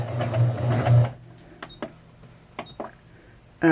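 A Juki HZL-K85 sewing machine runs a zigzag stitch with stitch width and length at maximum, a brief loud whirring burst followed by a few quieter clicks and taps nearby.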